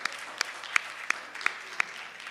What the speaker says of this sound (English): Guys, let's give them a round of applause.